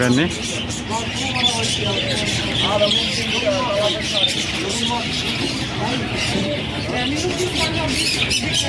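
Bright chirps and tweets from many birds fill a busy outdoor scene, mixed with people talking and a steady crowd murmur throughout.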